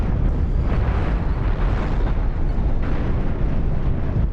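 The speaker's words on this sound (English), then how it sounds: "they detonated one of the side reactors" A side reactor blows apart on a ship in Cosmoteer, giving a sustained, loud rumbling roar of explosions that keeps churning throughout without any pause.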